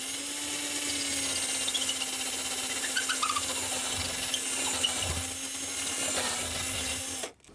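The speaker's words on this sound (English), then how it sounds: "let's drill a hole through the plywood" A power drill boring through plywood on a model railway layout whines steadily at a fixed pitch, running continuously with faint grinding texture before cutting off abruptly near the end.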